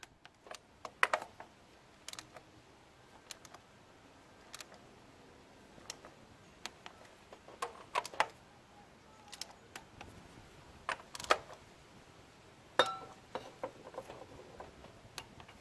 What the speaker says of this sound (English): And now we can just torque them to spec.